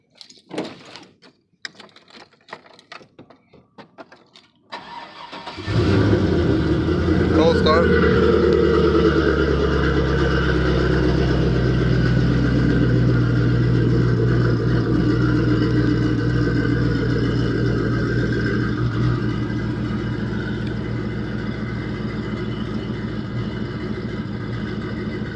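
An LS-swapped Chevrolet El Camino engine with a new transmission turns over and settles into a steady, loud running drone after some quiet rustling, humming on without change for a long stretch.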